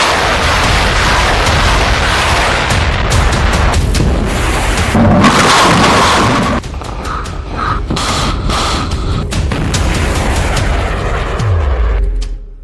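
A Hamas missile strikes near the city of Eilat, Israel, in a string of loud, close booms and heavy rumbling blasts that keep shaking the air for about twelve seconds, then fade out.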